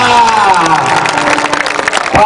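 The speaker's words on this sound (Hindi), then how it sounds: "जोरदार तालियां" Audience applause at the Barakham fair's 2019 stage show, where an Uttarakhand folk singer is being welcomed: a broad, steady wash of clapping from a crowd, mixed with sustained tonal music or voices throughout.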